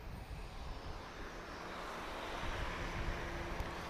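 German Air Force Global 5000 business jet departing Lisbon airport, a steady broadband roar of jet engines and rushing air that swells gradually, heard from a distance without talk.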